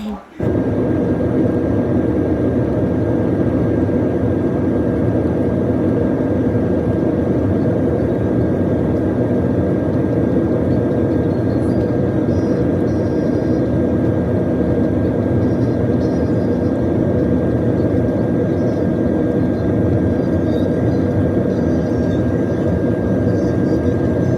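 Steady, loud broadband cabin roar of a passenger airplane in cruising flight fills the whole stretch unchanged, a constant engine and airflow drone with a faint tonal hum.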